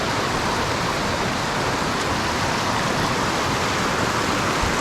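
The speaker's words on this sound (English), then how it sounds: "Waterfall there." Millard Falls waterfall in high flow, heard from the bottom: a dense, unbroken roar of rushing water filling the whole clip, loud and close, with no voices.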